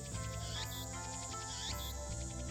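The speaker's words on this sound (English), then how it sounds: "I can hear the chirping of cicadas from the few trees growing here." Cicadas chirping from trees near a shrine in the Steins;Gate video game, a dense, continuous buzz with repeating trilled pulses that stays steady and moderately loud throughout, with background music and no speech.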